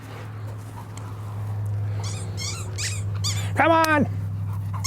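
A playful puppy gives short, high whimpering yelps near the end, close by, over a steady background hum, as a person speaks to it excitedly.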